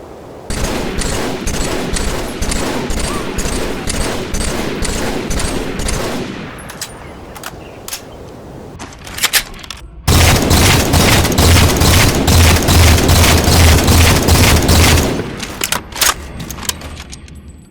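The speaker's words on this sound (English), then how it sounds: "I don't really like how the battle rifle sounds. It just sounds weird." Rapid bursts of battle rifle fire from Halo 4, loud and rhythmic, with a pause and scattered shots before another sustained volley.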